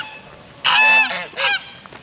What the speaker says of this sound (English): So I think the geese are calling to us.